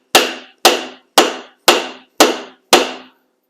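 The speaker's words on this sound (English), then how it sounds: "you can hit this with a hammer a few times" Six sharp metallic hammer blows on a screwdriver struck at an even pace, each ringing briefly before the next, loud and close, during work on a 1974 Triumph TR6.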